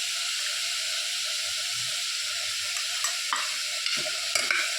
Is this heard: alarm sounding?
no